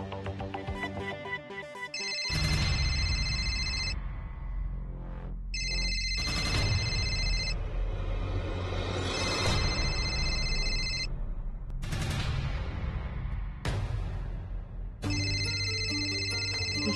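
A phone rings with repeated bright electronic tone bursts in several separate spells, over background music in a domestic setting.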